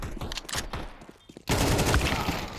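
Pistol shots ring out during a Counter-Strike esports match on Inferno, with sharp scattered pops first, then a dense, loud burst of rapid gunfire after a short lull, under a commentator's voice.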